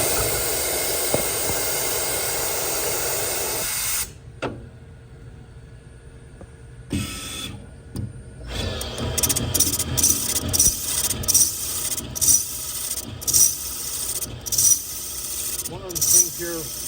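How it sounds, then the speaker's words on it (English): A seat cutter machines the exhaust valve seat of a Harley-Davidson M8 cylinder head, giving close, rasping grinding in repeated short bursts with pauses between passes, after an earlier stretch of steady whirring. "I'm going to machine now the exhaust seat."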